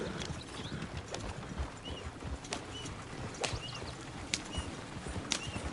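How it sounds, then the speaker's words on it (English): Steady clip-clop of horse hooves on hard ground in the video game Red Dead Redemption 2, with occasional sharper knocks, set against a constant low rumble of background noise. "Oh, shit, the horses!"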